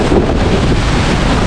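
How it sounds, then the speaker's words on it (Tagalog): Strong wind roars steadily across the microphone near Cavinti Falls in Laguna, a loud, continuous buffeting rumble with no voices. "Hangin."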